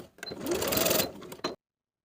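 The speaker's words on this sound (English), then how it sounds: "Stitch in the ditch from the inner neckline as far as the facing, on both sides." A domestic sewing machine stitches in the ditch along the shoulder seam of a peplum top from neckline to facing, one steady close burst of about a second and a half, then a brief stop and a short final whir.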